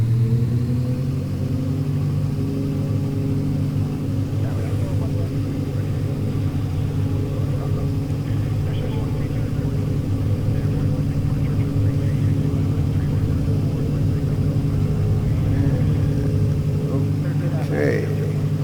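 A steady, loud engine rumble sounds as an aircraft begins its takeoff roll after brake release in the X-Plane 11 flight simulator on a Buffalo to Rochester flight, with someone talking over it.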